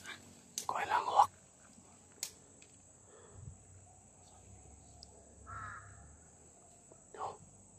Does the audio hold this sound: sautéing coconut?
no